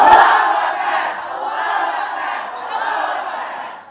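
A crowd of women at an Islamic study gathering in North Sumatra answers a takbir call with a loud, unified shout that swells and holds for a few seconds before fading.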